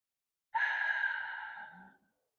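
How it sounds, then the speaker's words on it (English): A single slow, steady breath out through the mouth during a relaxation and stress-reset exercise, close and soft, lasting about a second and a half before fading away. "Breathe in through the nose, out through the mouth."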